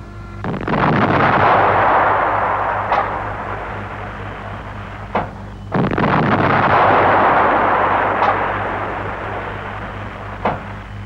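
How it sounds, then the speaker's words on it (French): An AMX-13 tank's 105 mm cannon fires twice, each a heavy booming blast that rolls into a long rumbling decay, with sharper sounds in between, in an old film soundtrack over constant hiss. "le canon de 105 tire le projectile à charge creuse T-59"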